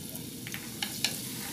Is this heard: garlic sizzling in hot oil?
yes